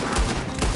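Brief burst of gunfire in the video game Red Dead Redemption 2 during a town shootout, a short dense crackle of shots, loud and close.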